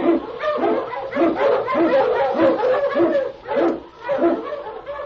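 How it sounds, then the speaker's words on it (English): A husky sled dog, an Eskimo lead dog in a Yukon radio drama, barks loudly and close in a rapid string of excited bursts, with only brief pauses between them. "On, King! On, you husky!"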